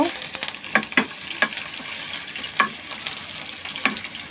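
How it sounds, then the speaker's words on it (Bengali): Bay leaf, cardamom, cinnamon and chicken pieces fry in a pan for chirar pulao, a continuous close sizzle broken by several sharp scraping stirs of a utensil against the pan. "এখন তেজপাতার ফোড়নটা আর এলাচ দারচিনিটা দিয়ে দিব, আর সাথে আমি চিকেনটাও দিয়ে দিব।"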